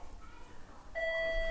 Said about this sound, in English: Hey, that's the doorbell.